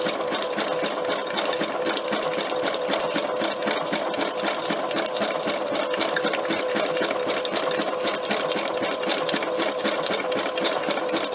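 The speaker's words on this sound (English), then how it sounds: "You'll have to excuse it if you don't like the noise in the machine." A sewing machine stitching a row through paper laid onto fabric, running continuously with a steady rapid mechanical whir, close and loud, with no talking.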